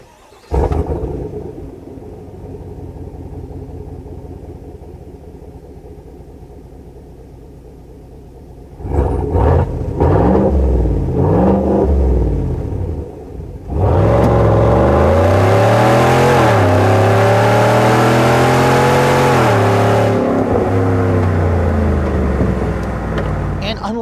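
A 2020 GMC Sierra AT4 pickup's 6.2-liter V8 with a high-performance catback exhaust starts up and idles with a deep rumble, then revs in two short bursts and finally holds a long, loud, rising rev, close to the microphone.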